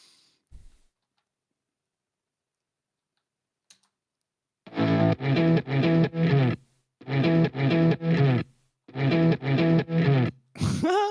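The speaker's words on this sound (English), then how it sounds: "like a synth." Short bursts of a buzzy, distorted synth tone play in a rhythmic pattern of repeated notes after a few seconds of near silence.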